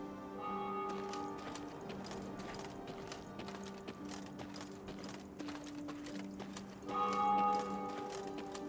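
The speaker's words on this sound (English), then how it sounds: "they heard the bells of a temple to Mother Melitele, situated at some distance" Temple bells to Mother Melitele ring at some distance in Thronebreaker: The Witcher Tales, a soft chiming of repeated bell tones over a low murmuring background, swelling slightly louder near the end.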